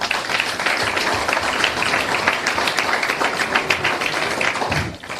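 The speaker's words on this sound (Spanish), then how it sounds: "Voy a pedir que omitamos el aplauso porque yo ya me doy cuenta que les gusta" Audience applause fills a university lecture hall at Universidad de Buenos Aires, a steady, dense clapping from many hands that holds loud and even for several seconds before tapering off.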